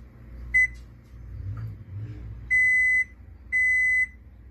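A kitchen appliance timer beeps while it is being set: a short beep, then two longer sustained electronic tones, clear and close over faint background rustling.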